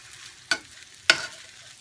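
Shrimp fried rice sizzling in a hot pan, with two sharp scraping stirs from a utensil standing out over a soft background hiss, fairly quiet and with no voices.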